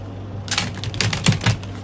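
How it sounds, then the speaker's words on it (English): A tarot card deck being shuffled, a quick run of crisp riffling clicks and flutters close by, starting after a brief quiet moment and carrying on with a few louder snaps toward the end, with no talking. "I'm just gonna shuffle one more time."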